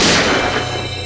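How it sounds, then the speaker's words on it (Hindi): A single sharp gunshot rings out and decays into a dull rumble, loud and close, with no voices. "सर, गोली चलने की आवाज?"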